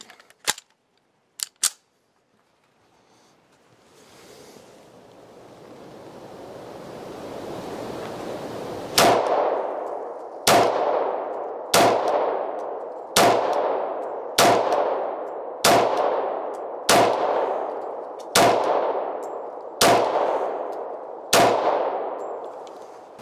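A Sig P229 pistol fires about ten shots at a steady pace outdoors, each a sharp loud crack with a ringing tail, following a few earlier isolated clicks and knocks.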